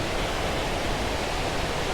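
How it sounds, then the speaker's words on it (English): Lumb Hole waterfall in autumn, running high with peat-brown water, pours in a dense, unbroken roar. The rushing water is heard alone at an even level. "As you can see, there is quite a lot of movement in the water today"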